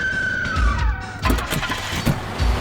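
A car engine turns over and the vehicle pulls away in a Hindi-dubbed thriller film scene, with low engine rumbles pulsing under a fading high tone, steady and fairly loud throughout.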